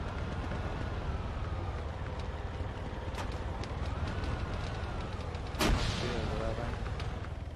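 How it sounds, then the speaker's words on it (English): Distant gunfire in the military shooter Arma 3, set in a King of the Hill match: scattered faint cracks over a steady rumbling engine-like drone, with one louder report standing out near the end. "Heard some gunshots over here, so I'm going to go and check it out."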